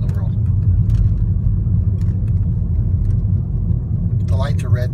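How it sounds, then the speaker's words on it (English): Cars pass on a road as a constant low rumble of traffic, heard from inside a vehicle, with a person talking over it and a brief squeak near the end. "Traffic is going on in the world."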